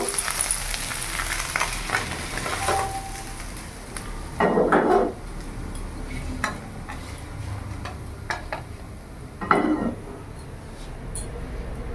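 Steady oil sizzle of khoira fish frying in a pan, with two bursts of louder crackling and a few light clinks of a utensil.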